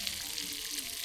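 Chicken fries in oil outdoors behind a village house in Konkan, giving a steady, close, crackling sizzle that hisses evenly throughout with no voices.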